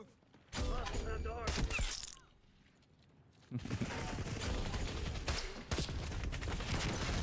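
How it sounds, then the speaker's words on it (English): Dense gunfire rings out in the Call of Duty Black Ops 6 shooter game, coming in two long sustained bursts of rapid shots separated by a quieter gap, with a voice speaking briefly near the start. "There's lots of shooting going on, and I don't like it."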